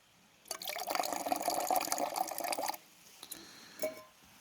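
Water is poured from a container into a camp meal pouch at a campground, a steady close splashing fill lasting about two seconds, followed by a few faint drips and a short slosh.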